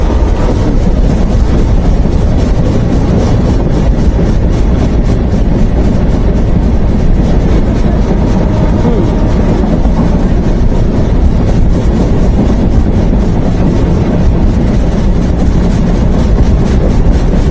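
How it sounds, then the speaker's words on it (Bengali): The Jahanabad Express train from Khulna to Dhaka rumbles steadily along the tracks through a large curve at dawn, loud and close, with a continuous roar and faint rhythmic rattling throughout. "আমাদের ট্রেনটি বিশাল একটি বাঁক নিচ্ছে গাইজ।"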